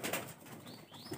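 Pigeons at a house in rural Bhola, Bangladesh flap their wings as they take off together, a close burst of fluttering that rises and fades over a moment with no talking.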